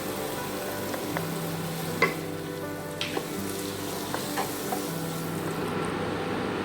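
Onions and garlic sauté in a pan for French onion soup, a constant close sizzle broken by several sharp spatula scrapes and knocks against the pan.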